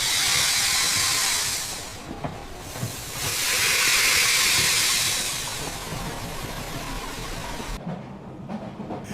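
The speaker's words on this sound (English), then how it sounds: "a passenger train waited for its midnight departure" A steam passenger train of seven cars hisses while waiting for a midnight departure: a steady, loud broadband hiss that swells twice, then drops away near the end, with no voices.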